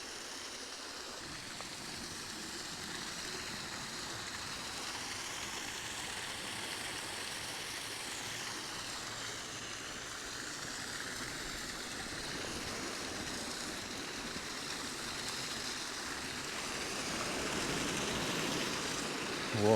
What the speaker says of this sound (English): Water coming off the edge.